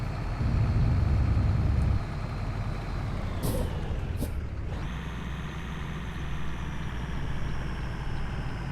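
Scania 143M truck engine in Euro Truck Simulator 2 drones steadily, with the pitch sweeping down then climbing again as revs drop and rise, and a brief hiss of air release partway through; no talking.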